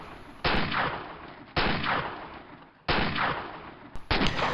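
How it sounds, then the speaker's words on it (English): Rifle shots fired at a target during sniper training, heard as four loud, sharp reports about a second apart, each followed by a long rolling echo outdoors. "Wait till you get a comfortable shot and then fire."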